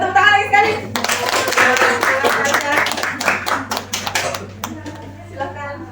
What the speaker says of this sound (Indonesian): Ayo tepuk tangan lagi sekali.